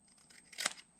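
A few quiet, crisp snips of scissors cutting through a piece of cardboard, close and isolated, with one louder cut in the middle.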